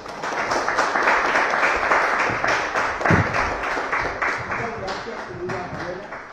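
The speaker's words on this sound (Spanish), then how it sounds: "Más fuerte el aplauso para Pamela" A crowd applauds for Pamela at a Chilean magazine launch event, a steady, dense wash of clapping that runs the whole stretch with scattered louder claps.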